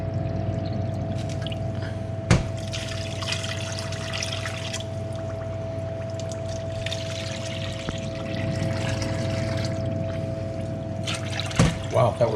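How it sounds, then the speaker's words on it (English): Half a gallon of water pours steadily into a container for simple syrup, a continuous close rush over a low steady hum, with a couple of sharp knocks. "So we'll pour in a half a gallon of water."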